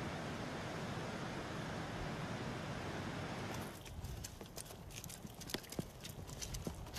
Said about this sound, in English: Donkeys now take over, carrying the jade for 3 days to the nearest road.